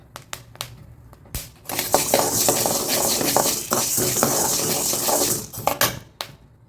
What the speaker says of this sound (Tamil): கொஞ்சம் வெடிக்குது பட்டு பட்டுன்னு